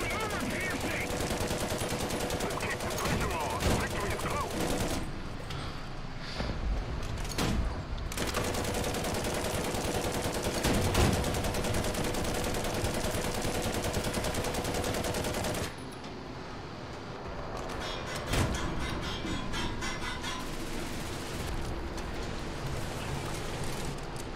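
British tanks in War Thunder ground battles fire repeated rapid bursts of heavy gunfire, loud and dense, with brief gaps between volleys.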